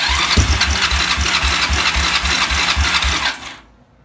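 A Kawasaki ATV engine cranks with the choke on, giving a loud, fast, evenly pulsing chug that runs for several seconds and then cuts off sharply.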